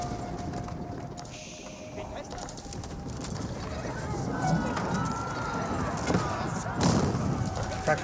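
Cavalry of horsemen in an Age of Empires 4 battle between Mongols and English, hooves clip-clopping in a steady gallop with occasional whinnies over dense battlefield noise, with a voice talking across the mix.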